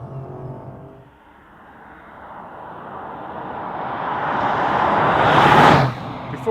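An Audi RS 7 Performance accelerates hard on a damp road, its engine note swelling steadily louder over several seconds and peaking in a rushing surge near the end. There is no talk.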